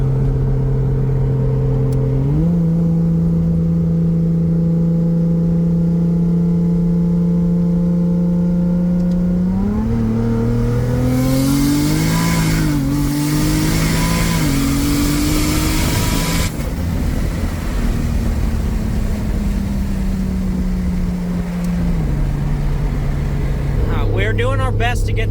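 A 2JZ engine in an S14 with an 8HP70 gearbox revs hard through flat-shift and gear-cut shifts, its loud droning tone stepping up and down in pitch with crackling bursts at the shifts, while people talk over it.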